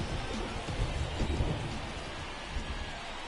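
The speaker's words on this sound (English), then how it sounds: "This rain is not letting up." Steady heavy rain hisses through a baseball game in MLB The Show 24 on PS5, with low thunder rumbling underneath. The wash of sound stays dense and continuous, and no voices are heard.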